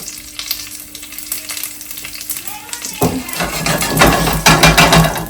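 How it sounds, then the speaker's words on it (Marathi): Curry leaves and cumin drop into hot oil in a shallow pan, starting with a quiet hum and then bursting into loud, crackling sizzle that keeps spitting and popping. "आता ह्याच्यामध्ये आपण करी लीव्स घालूया अँड जिरा"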